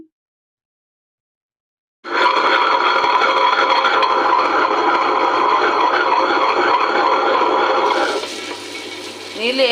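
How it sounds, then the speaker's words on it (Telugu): A kitchen wet grinder grinding vada batter without water starts up after a couple of seconds of silence, then runs as a loud, steady close motor drone that shifts in tone near the end. "గ్రైండర్ ఆన్ చేసుకున్నాము"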